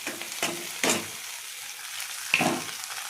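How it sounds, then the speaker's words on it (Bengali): Pasta being stir-fried in a pan with browned onions: a soft sizzle broken by a few sharp scraping stirs, close and fairly quiet, with no voices. "এই যে পাস্তাটা দিয়ে দিয়েছি।"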